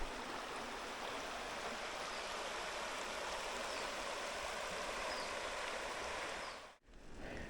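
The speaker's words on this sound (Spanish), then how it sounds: "Aquí tenemos el río." A river rushes past a medieval stone causeway on a mountain-bike route in Brañes, Asturias. Its constant, full roar of flowing water stays loud and steady, then dips sharply for a moment near the end before it resumes.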